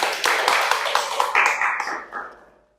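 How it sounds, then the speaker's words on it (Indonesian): A small group claps in a classroom, a quick burst of uneven hand claps that thins out and fades to silence within a few seconds. "tepuk tangan dulu untuk pertanyaannya"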